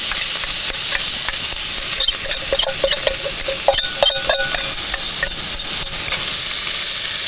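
Sauerkraut sizzles and fries in a pan alongside brats at a campsite, a steady bright crackle with scattered stirring clinks and scrapes of a utensil against the pan.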